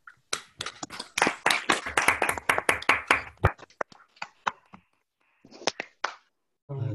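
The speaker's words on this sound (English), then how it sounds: "Let's unmute and clap if we'd like" Online audience members clap after a mathematics talk on Floer K-theory, a burst of scattered hand claps from several unmuted participants, dense at first and then thinning to sporadic single claps before a short noise at the end.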